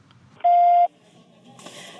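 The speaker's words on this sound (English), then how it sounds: "Please do so after the beep" A single steady electronic beep sounds for just under half a second, loud and clean, against quiet background noise.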